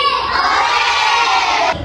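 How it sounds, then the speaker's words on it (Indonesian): Elementary schoolchildren at an Indonesian primary school yell a loud, unified cheer of "hooray" together, a dense crowd shout that lasts under two seconds and cuts off abruptly. "Kalau aku bilang jadi, adik-adik teriak hore gitu ya."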